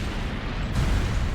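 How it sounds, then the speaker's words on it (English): A loud anime explosion from Fate/Zero blows up a whole building, a dense, continuous rumbling blast with heavy low-end roar that swells and holds, no talk over it. "What a cool explosion."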